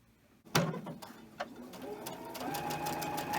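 After a brief quiet pause, a sewing machine starts chain stitching quilt pieces and runs in a rapid, steady mechanical patter up close, with a few sharp ticks along the way.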